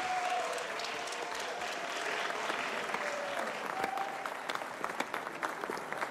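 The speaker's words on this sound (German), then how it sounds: "Einen großen Applaus für unser erstes Tanzpaar" Audience applause for a dance couple at a quiz show, steady clapping from a crowd that fills the whole stretch at moderate volume, with a faint tone drifting underneath.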